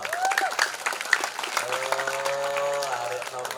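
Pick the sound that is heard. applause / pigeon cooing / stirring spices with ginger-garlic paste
applause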